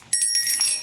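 A bright, metallic bell rings continuously in the horror video game Granny, a loud, close, shimmering tone that sustains for under a second.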